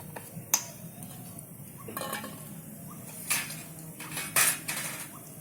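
Metal bowls clink and clatter as they are set out one by one for steaming tal vapa, giving several sharp, close metallic knocks spaced irregularly over a quiet kitchen background.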